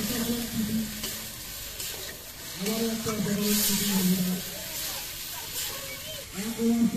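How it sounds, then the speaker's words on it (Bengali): Loitta fish frying with spice paste in a pan, stirred steadily with a soft sizzle and scraping strokes while voices talk over it throughout. "তো মাছগুলো দিয়ে মশলা দিয়ে কিছুক্ষণ কষিয়ে নেওয়া হচ্ছে"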